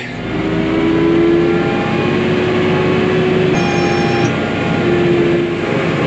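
A farm tractor pulling off in four-wheel drive to mow alfalfa, its engine a steady loud drone throughout, with a whining tone rising midway and no talking.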